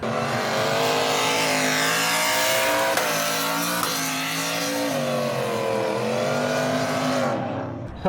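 A loud, raspy engine in a Bronco off-road rig of over 1000 horsepower, held at high revs near 8,000 rpm, its pitch wavering up and down continuously before dropping off at the end.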